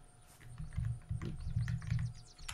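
Quiet keyboard typing with a few rapid keystrokes in irregular bursts, close by, over a low background hum and no talk.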